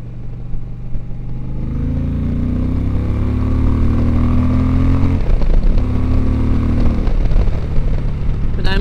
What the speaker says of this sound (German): Und der Motor geht aber auch sehr spontan ans Gas